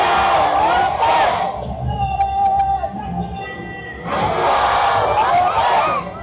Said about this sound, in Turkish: Tek tek gelen Pakistanlılar tezahürat yaparak şarkılara eşlik etti.